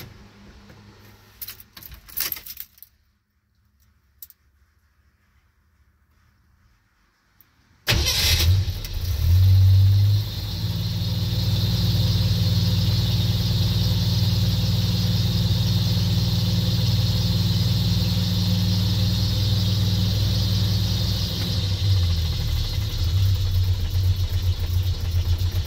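A car engine fitted with a manual choke cable cranks and starts after a quiet stretch with a brief jingle of keys, then settles into a loud, steady idle that holds for the rest of the clip.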